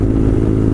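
A motorcycle under 125 cc drones steadily while being ridden, loud and close, with a continuous low engine hum.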